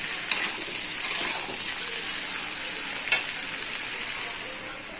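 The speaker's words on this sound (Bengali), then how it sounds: "কচু আলুটা ভাজা হবে" Taro and potato pieces fry in a pan with onion and tomato, giving a continuous soft sizzle broken by a few light clinks and scrapes of stirring, with no talking.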